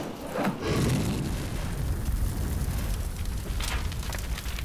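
A command caravan is blown up in the Korean War at Kapyong, a loud deep boom near the start that rolls into a long, dense rumbling roar lasting several seconds.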